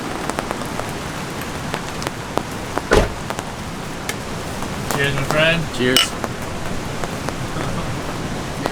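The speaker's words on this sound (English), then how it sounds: "Seems like we don't make it to camp anymore without it raining." Rain falls steadily at a campsite in Costa Rica during the rainy season, a close, even patter on surfaces. A brief knock and some creaking mechanical sounds break in, and people briefly talk.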